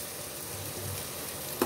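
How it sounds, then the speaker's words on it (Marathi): Prawns frying in masala on medium heat give a steady close sizzle with a soft stirring scrape and a sharp clink of the spoon near the end. "आणि आता ह्याच्यावर हे कोलंबी अशी टाकायची. आणि ही अशी मिक्स करायची."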